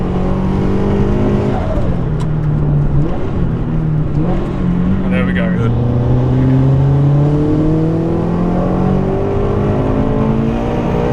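A turbocharged Subaru BRZ, Toyota 86 or Scion FR-S sports car accelerates hard, its engine climbing in pitch through the gears, loud and close, while a person briefly talks over it.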